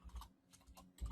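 Computer keyboard typing, a quick run of close, crisp key clicks with a brief pause before a final burst of keystrokes.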